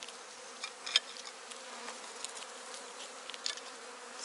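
Honey bees buzzing over hive frames in an apiary, a close, steady insect drone with small individual buzzes flaring now and then, fairly quiet and with no talking.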